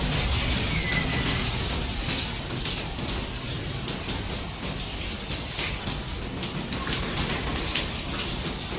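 Heavy rain pours steadily and loudly during Hurricane Melissa in central St. Elizabeth, Jamaica, a dense unbroken wash of drops drumming on surfaces inside a damaged bar where the roof has gone.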